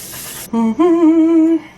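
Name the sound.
setting spray misted on face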